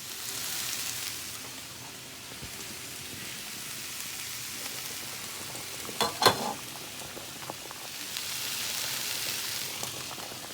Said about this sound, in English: Beef stew in the crock pot, and I've just put it up to high so it can get really hot